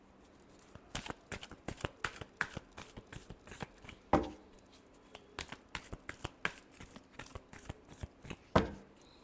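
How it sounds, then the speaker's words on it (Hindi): A deck of tarot cards being shuffled by hand, with a quick run of crisp, close riffles and light slaps repeating through the stretch and two sharper thumps along the way, with no talking. "शफल करते हैं"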